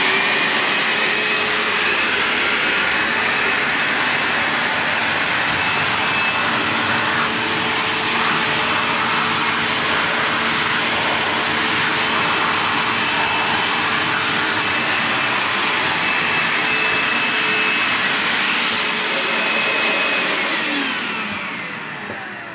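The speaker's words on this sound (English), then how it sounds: "I'll just turn the machine on, so we've got the suction" A Vax HF1400 upright vacuum cleaner and carpet washer runs on full power, giving a loud, steady whine and airy suction roar held constant for the whole stretch before tapering slightly at the end.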